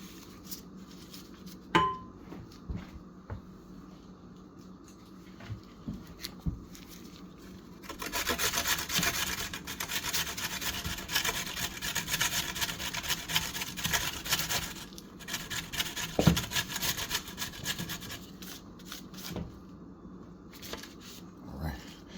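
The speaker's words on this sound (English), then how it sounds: "Trying to get as much of this out of the grater as I can." Potato being grated on a hand grater for hash browns, with scattered scrapes and knocks early on, then a sustained stretch of rough rhythmic rasping strokes up close, followed by lighter scraping and taps.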